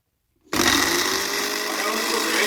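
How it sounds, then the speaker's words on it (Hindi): An electric grinder jar runs at full speed, crushing roasted masala spices for a fish fry, with a steady loud whirring drone that starts abruptly after a brief quiet moment and continues unbroken. "जो हमने ये मजेदार सा अपना मसाला क्रश कर लिया है यानी ग्राइंड किया"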